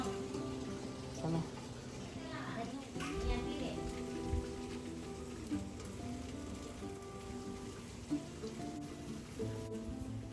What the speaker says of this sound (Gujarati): 3 દિવસ વરસાદ છે.